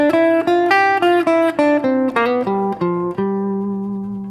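A single guitar plays a steady run of plucked notes, about two per second, stepping through the Mixolydian mode with an added flat third before ringing out on a final sustained note.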